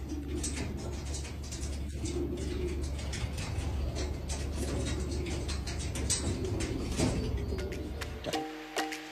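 Homing pigeons cooing softly among a loft's steady background hum and rustle, with a brief clatter near the end and no talk.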